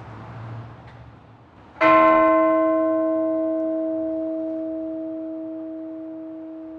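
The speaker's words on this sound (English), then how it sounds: "So I'm gonna move on to the second largest bell." The second-largest bell in the Holy Trinity Cathedral bell tower, San Francisco, is struck once, ringing out with a bright, layered tone that hangs and slowly fades over several seconds.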